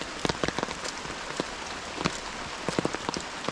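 Rain pours steadily on a farm plantation beside a full well and pump house during the monsoon, with a dense hiss of falling water broken by sharp, close drip and splash hits at irregular intervals.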